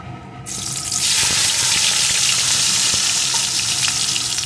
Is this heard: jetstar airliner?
no